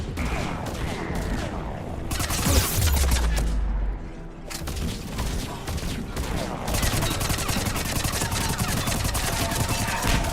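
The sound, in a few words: SMG gunfire in video game Mass Effect 3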